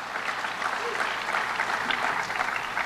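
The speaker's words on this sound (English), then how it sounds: "That does deserve a round of applause." Applause from an audience at a New York City FoodWorks report event, marking news of a new shared commercial kitchen at La Marqueta in East Harlem. Dense, even clapping sustained throughout at a moderate level.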